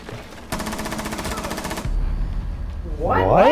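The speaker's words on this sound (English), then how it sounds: "Mitt, I fire one shot and it loads three." Rapid automatic gunfire from Rainbow Six Siege, a loud even burst of about a second and a half followed by softer game noise and a rising electronic sweep at the end.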